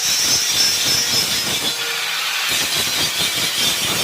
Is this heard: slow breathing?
no